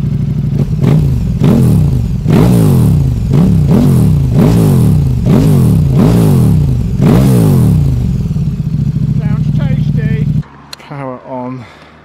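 A KTM Super Duke and an Aprilia Tuono motorcycle rev repeatedly up close, about ten sharp rising and falling throttle blips in a steady rhythm, followed by a steady idle and a few quicker, lighter blips after a cut.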